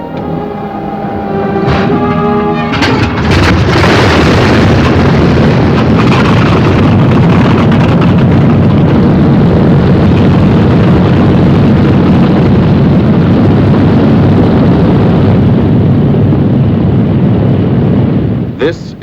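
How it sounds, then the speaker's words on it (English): Four-engine World War II bombers roar loudly and steadily over the English countryside, a dense, sustained engine drone with some wind buffeting, filling the whole stretch without a break. "Only the roaring engine sound of the bombers pounding through the quiet English countryside."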